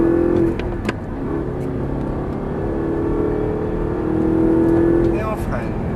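An Audi R8 on a track pulls hard under full throttle, its engine drone steady and rising in pitch inside the cabin while a person talks over it.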